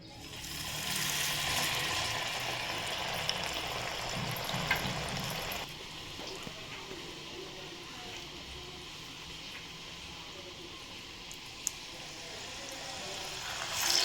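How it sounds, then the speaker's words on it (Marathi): Medu vada, a lentil-batter fritter, frying in hot oil in a kadhai, a steady soft bubbling hiss throughout with occasional faint clicks, louder in the first seconds and then settling lower. "आता आपण मेदूवडे तळून घेऊया"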